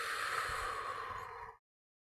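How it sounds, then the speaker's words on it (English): A slow, steady exhale through the mouth, breathy and close, lasting about a second and a half before cutting to silence. "Exhale through your mouth."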